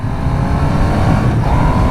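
Triumph Trident 800 motorcycle engine droning steadily while riding, a continuous close rumble with a slight rise in pitch near the end.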